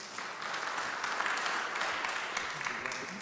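Audience applause at a development review board meeting: dense, even clapping from a crowd in a hall, sustained for a few seconds at moderate volume.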